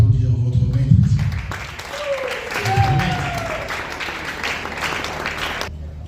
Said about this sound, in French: Les artistes, est-ce que vous pouvez applaudir votre maître?